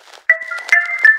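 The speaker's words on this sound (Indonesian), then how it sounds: "Kamu angkat telepon dulu." A phone ringtone plays alone as a melodic run of bright electronic tones, fairly loud and close, with several pitch changes and no talking.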